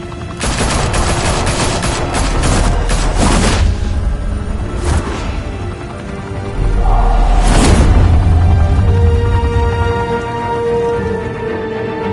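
Loud bursts of gunfire with heavy booms ring out in a Batman video game, dense volleys in the first few seconds, then another heavy blast after a pause, over a low rumbling backdrop.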